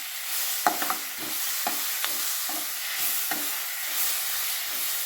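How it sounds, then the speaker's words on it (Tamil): Guava pieces sautéing with a pinch of salt in a pan for chutney, giving a steady soft sizzle broken by several short scraping stirs of a spoon against the pan, close and alone. "அதுலேயே கொஞ்சோண்டு உப்பையும் போட்டுக்கணும் இது நல்லா வதங்கட்டும்"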